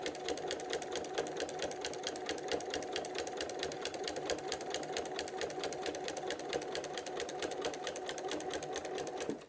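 Steady, rapid needle stitching from a sewing machine quilting a placemat through batting, an even rhythmic whir running unbroken for nearly ten seconds, close and moderately quiet.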